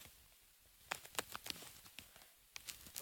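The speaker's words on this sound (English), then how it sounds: "Why has it gotta rain now?" Rain falling in the video game Minecraft Pocket Edition during a survival session, a quiet steady hiss broken by irregular sharp pattering taps that cluster in short bursts, with no voices.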